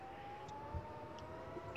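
Electric fire truck siren in a video game, a faint steady wailing tone held throughout under quiet background noise, with a soft thump midway.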